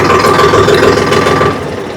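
A Mahindra tractor engine idles nearby with a steady low chugging rumble and faint rattle, dropping slightly in level toward the end.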